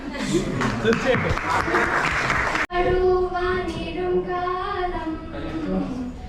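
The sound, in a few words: audience applause at Onam celebration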